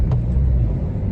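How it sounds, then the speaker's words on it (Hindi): Heavy road traffic on a crowded Delhi street rumbles as a dense, low, continuous roar of vehicles passing close by. "बहुत भीड़ लगी हुई है, ट्रैफिक लगी हुई है"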